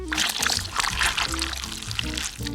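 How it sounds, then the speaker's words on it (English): Egg pours into a bowl with a wet glugging splash, heard close over a bed of background music. "Now we pour this into the bowl."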